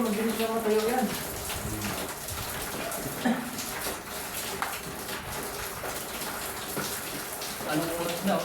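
Heavy rain pours down near a landslide site as a steady broadband hiss of falling water, with people talking over it throughout.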